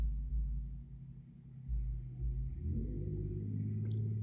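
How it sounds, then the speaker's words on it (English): Loud car stereo bass booming from a car outside, a deep heavy thumping rumble that swells and shifts pitch midway, muffled as if heard through walls. "that bass in that car was loud"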